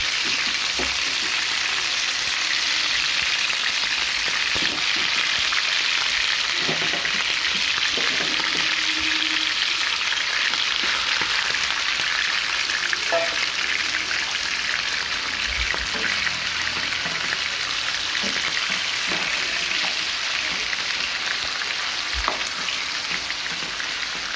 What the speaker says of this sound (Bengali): ধুয়ে রাখা পর্ক আমরা ভেজে নেব 2 থেকে 3 মিনিট।